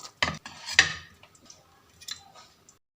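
Metal utensil clinking and scraping against a pot while serving chicken korma, a few sharp clatters close up in a quiet kitchen with no talk.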